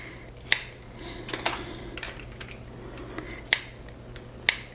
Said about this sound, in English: I like to cut little slits in them with my kitchen scissors.